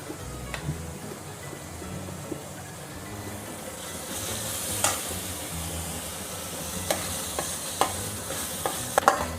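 Freshly pounded masala frying in a pan for a tamarind fish curry, a continuous sizzle and hiss with occasional scraping stirs and sharp clinks of the spoon against the pan.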